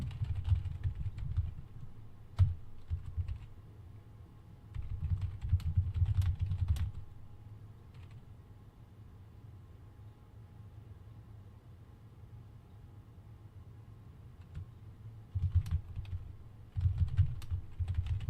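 Close computer keyboard typing comes in several bursts of rapid keystrokes separated by quieter stretches of faint room noise, soft clacks with a few sharper taps.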